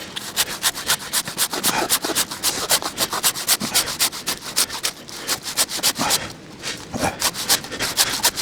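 Hand saw cutting through a piece of wood outdoors, a steady run of fast, rhythmic rasping strokes that stays close and loud throughout, pausing briefly near the end before resuming.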